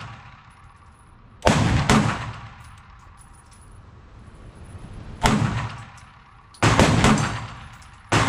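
Pistol shots at a shooting range from a Glock 43X or Staccato C compact handgun: several loud, sharp cracks in spaced pairs and singles, each with a short ringing decay, over quiet background.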